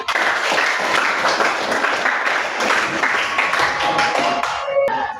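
A room of students claps together in a class applause, dense and steady throughout before tapering off at the end.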